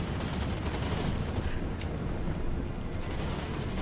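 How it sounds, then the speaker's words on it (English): Gyrobomber machine guns in Total War: Warhammer fire as a dense, continuous rattle of gunshots, steady and loud throughout with a busy battle din underneath. "Yeah, they have machine guns."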